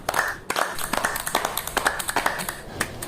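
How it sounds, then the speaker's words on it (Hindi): Rhythmic hand clapping with quick, sharp claps repeating steadily and close up, done as a daily health practice. "जहां मौका मिले बजाओ ताली और मनाओ स्वास्थ्य की दिवाली।"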